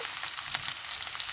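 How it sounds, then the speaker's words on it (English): Beef and vegetables sizzling in a hot pan for a stir fry, a steady close hiss with small crackles and pops throughout, no talking. "So let's fry."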